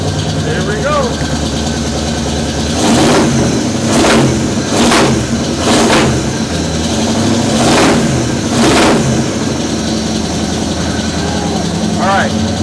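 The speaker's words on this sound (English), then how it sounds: "Let me give it a couple revs." A car engine with a budget homemade exhaust idles loudly, then gets a series of about six sharp revs that rise and fall in quick succession before settling back to a rough idle, heard up close.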